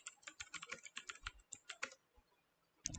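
Typing code on a computer keyboard while writing Python functions: a steady run of close, crisp key clicks in uneven bursts, then a pause and one last louder keystroke, with no voices.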